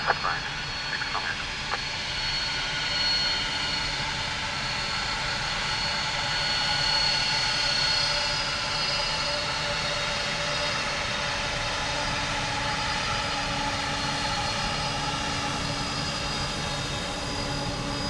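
Jet aircraft engines at Dublin Airport produce a steady, broad roar that persists evenly throughout, with crackly air-traffic radio chatter layered over it.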